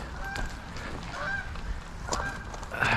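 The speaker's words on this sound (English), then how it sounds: "the cobra chicken, as some people call the geese around here, because they're quite vicious, is making a little bit of noise" Geese honking near railway tracks, repeated loud honks over outdoor background noise and wind, with several calls overlapping.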